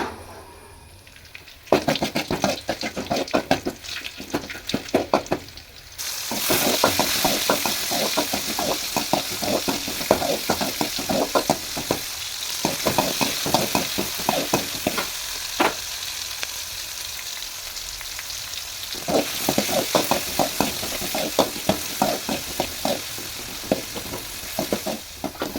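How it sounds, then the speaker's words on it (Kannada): Tempering for a ridge gourd dish sizzles in a hot pan while a spoon scrapes and stirs it in repeated bursts, a steady close-up crackle running throughout with brief pauses. "ಬೇಗ ಬೇಗ ಒಗ್ಗರಣೆ ಹಾಕಿಡು."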